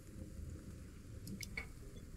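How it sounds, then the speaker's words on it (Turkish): Steady rainfall in the Stranded: Alien Dawn video game, a soft continuous wash of rain with a few faint droplet ticks, even and unbroken throughout with no talk. "Güzel bir yağmur yağışı var."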